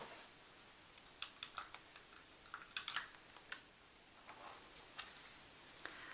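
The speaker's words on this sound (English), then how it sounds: "So I'm going to use some just regular runner adhesive for that." A runner adhesive tape applicator makes faint, irregular clicks and soft ticks at close range, with no voices.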